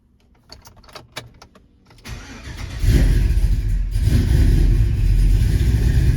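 Car engine starts up after a few clicks and ticks, cranking into a loud steady idle that swells slightly, close and alone without talk.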